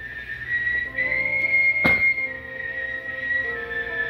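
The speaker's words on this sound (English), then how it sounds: "That whistling is fucking creepy." A person whistles a long, steady high tone that wavers slightly, interrupted once by a short sharp knock.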